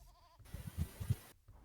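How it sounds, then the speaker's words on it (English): Sheep bleat in a strategy video game, a few short, moderately loud calls in quick succession over a low background hum, with no talk. "he's going to get 4 of Faneth's sheep"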